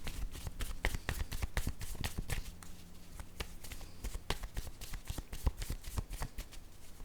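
A deck of cards being shuffled for a card reading, with repeated crisp riffling bursts and soft flutters in an uneven rhythm, close and moderately loud with no talking.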